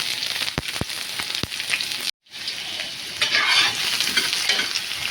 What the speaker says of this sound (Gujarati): સૂકા મરચાં આપણે એકદમ તેલમાં સતરાઈ ગયા છે। હવે આપણે એમાં એડ કરવાના છે ડુંગળી।